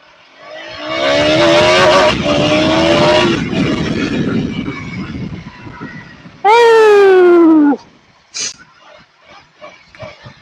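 A KTM Duke 200 BS6 motorcycle pulls away and accelerates, its engine rising in pitch through loud revs, then a second sharp high-pitched rev burst, followed by quieter clicks and knocks nearby.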